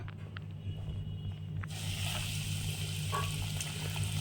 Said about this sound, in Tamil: இப்போ நம்ம போய் எண்ணெயில் போட்டு பொறிக்கலாம்